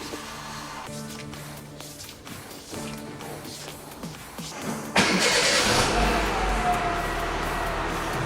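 A Renault Mégane 2 engine cranks with a stuttering whir for several seconds, then catches and roars into a loud, steady run that settles toward idle; heard up close with no talking.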